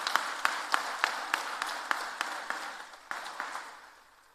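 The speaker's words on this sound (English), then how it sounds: "May I have another round of applause for Honorable Minister" Applause for a minister at an RV College of Engineering event, heard as a rhythmic run of evenly spaced claps that slowly fade, giving way to a quieter tail.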